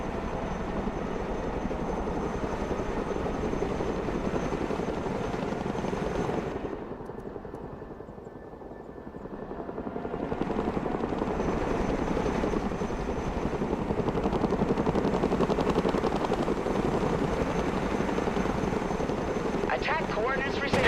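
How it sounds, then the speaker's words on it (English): Chinook helicopter in the video game Broken Arrow, a steady loud rotor drone that dips briefly in the middle before swelling back, with radio-style voices speaking over it. "Chinook at your command."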